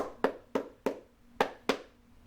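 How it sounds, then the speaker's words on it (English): A cheerleader performs a clapping cheer for wrestling: five crisp, close hand claps in an uneven rhythm, each sharp and quickly fading, with quiet between them. "So I'm going to demonstrate the clapping cheer now."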